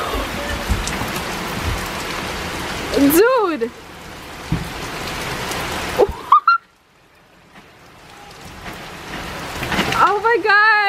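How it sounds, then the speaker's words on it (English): Rain falls steadily as a broadband hiss through most of the stretch, briefly cut off twice, while excited voices shout and talk over it. "Oh my god, it's raining!"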